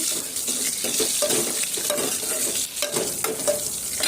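Garlic, cumin, mustard seeds, dried red chillies and curry leaves sizzle in hot oil for a tempering, a steady close-up frying crackle with stirring and clatter throughout, no talk.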